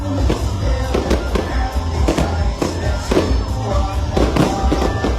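Fireworks bursting in a rapid series of cracks and booms over a murmuring crowd, loud and dense with overlapping explosions.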